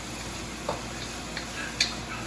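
Shrimp are stirred and fried in a pan, a steady quiet sizzle broken by several light scrapes and taps of the utensil against the pan, no voices.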